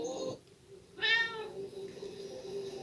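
A cat meows twice in the video game Tokyo Dark Remembrance, one short call and then a clearer, drawn-out meow, fairly quiet over a soft background hum.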